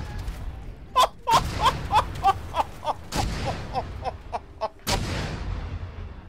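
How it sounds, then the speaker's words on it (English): Mortar shells land in a military video game, a string of sharp booming blasts near and far, a rapid cluster of cracks followed by heavier explosions through the stretch. "Oh, these mortars might touch down."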